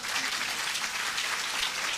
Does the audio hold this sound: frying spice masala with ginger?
no